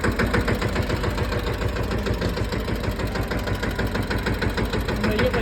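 A mini tractor engine runs steadily in a cotton field during ploughing, a close, even mid-pitched chugging drone with a rapid knocking pulse and no pauses.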